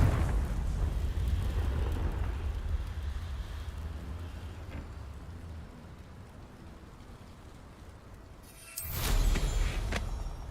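A Confringo explosion spell in Hogwarts Legacy, a sustained rumbling, crackling roar that slowly thins, then a fresh loud burst erupts near the end.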